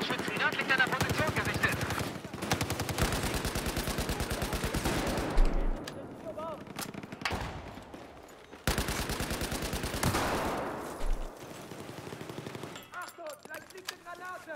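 Enemy machine gun fire in Battlefield 4, a German-language capture-the-flag match: rapid automatic bursts rattle in long strings, broken by brief pauses and a couple of sharp impacts, with a voice talking over the gunfire.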